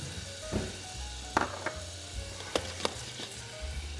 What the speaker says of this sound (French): Donc, je chauffe mon huile. C'est de l'huile d'olive, hein.